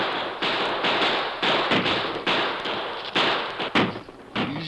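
Gunfire from soldiers defending a stockade against attackers in a radio drama, a steady barrage of overlapping sharp shots and thuds in quick irregular succession with no pauses.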